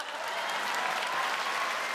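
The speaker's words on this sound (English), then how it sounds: "we'll wait for the applause" Steady audience applause fills a comedy gala theatre at Just For Laughs, dense and continuous clapping from a large crowd with no talk over it.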